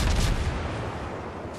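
A warship's main guns fire a salvo from the Myoko in World of Warships: a heavy, booming low rumble hits at the start and rolls off into a sustained, muffled roar, with no voices.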